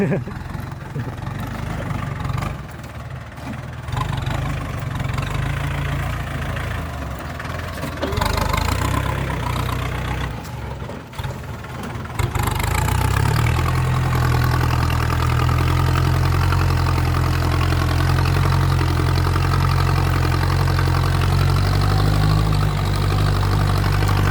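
A second-hand 45 hp farm tractor engine idles steadily with a deep low rumble, loud and close, growing fuller partway through and running continuously throughout.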